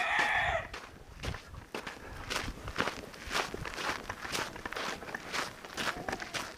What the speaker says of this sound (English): Got two hens that are 16 years old and one rooster that is 16 years old